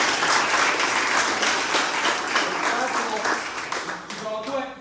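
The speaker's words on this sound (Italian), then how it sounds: "voglio fare un applauso ai docenti" Applause for the teachers at a youth excellence award ceremony in Pomigliano d'Arco, a large audience clapping in a dense, sustained wash that slowly tapers off, with a voice starting up at the end.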